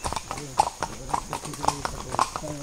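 A horse carries a rider on a trail ride at Matheran, its hooves clip-clopping in a steady, close walking rhythm of distinct knocks while people talk over the hoofbeats.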